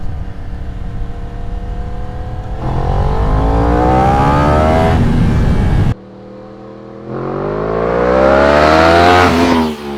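Yamaha R1 sport bike at traction control level 4 with wheelie control on 2 and power mode 1, rolling on from 60 in two hard pulls, the engine climbing loudly through its revs with a gearchange dip between them.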